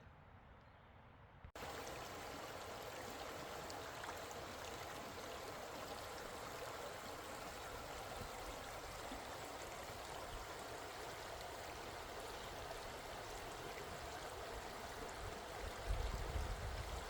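River flowing near a wilderness camp, a steady, close rush of running water holding at an even level throughout, with no one speaking.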